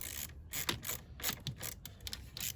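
A ratchet tightens 8mm nuts on a battery terminal during a dual battery kit install in a VW Amarok tub, giving close, rapid clicking strokes in short bursts.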